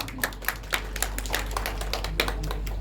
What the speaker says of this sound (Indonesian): Tepuk tangan bagi dia lah.